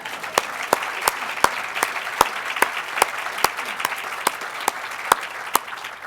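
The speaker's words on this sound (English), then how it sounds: "So this might be a good time to give Richard one more round of applause." Audience at a leadership award presentation applauding Richard, the award's namesake: a steady, even round of clapping with sharp individual claps standing out at a regular pace, moderately close, with no talk over it.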